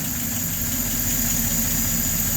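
A LaSalle vintage car engine with a fuel starvation problem idles steadily with a low, even rumble and slight knocking pulse, close and continuous.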